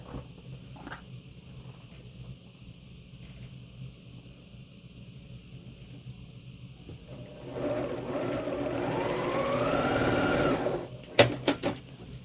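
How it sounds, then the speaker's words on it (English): Sewing machine stitching quilt block pieces together, starting faint and then running as a steady, close mechanical whir for a few seconds before stopping with a couple of sharp clicks. "So I'm going to sew this together first, and then sew these onto here,"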